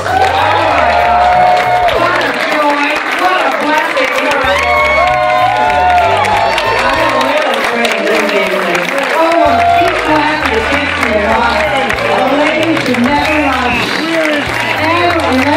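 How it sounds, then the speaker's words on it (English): An audience applauds and cheers for entertainer Hedda Lettuce in a dense, steady wash of clapping and shouts that lasts throughout, mixed with music and voices. "And if you didn't get one, make some applause."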